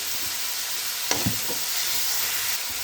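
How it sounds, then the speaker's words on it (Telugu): Salted onions fry in a pan toward browning with a close, continuous hissing sizzle, broken by a couple of soft spatula taps and stirs. "ఆనియన్స్ బ్రౌన్ కలర్ వచ్చే వరకు వేగనిద్దాం"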